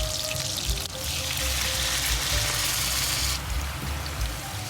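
Vinegar splashes into a hot pan of frying pork ribs with garlic, ginger and green onion, making a loud, continuous sizzling hiss that swells sharply near the end.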